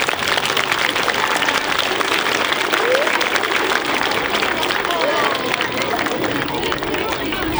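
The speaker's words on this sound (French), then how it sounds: "Donc on peut les applaudir très fort s'il vous plaît." An audience at a school orchestra concert in Martillac claps steadily and densely for several seconds, a loud, continuous patter with some voices mixed in.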